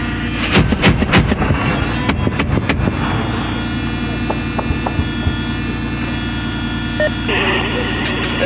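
Booming shots from an LAV-25 autocannon on a live-fire range, a cluster of heavy reports early on and scattered thuds later over a steady engine-like rumble, fairly loud.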